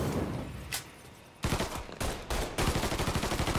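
Machine gun fire in the video game Mafia 3 comes in several loud bursts of rapid shots, with brief pauses between them and a final sustained volley, close and without speech.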